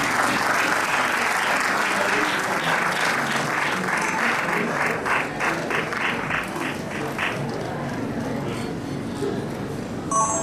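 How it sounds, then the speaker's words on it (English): Sustained applause from a seated audience at an investor education workshop, steady dense clapping filling the hall throughout and thinning slightly toward the end. "Can we have a round of applause"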